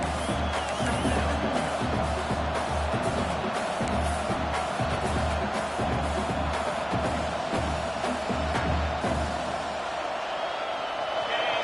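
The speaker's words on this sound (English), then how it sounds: "This crowd bringing the energy and noise early." A football stadium crowd keeps up a steady roar of cheering and noise throughout, with a commentator talking over it.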